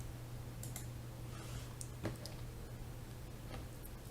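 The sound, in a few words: computer keyboard arrow key presses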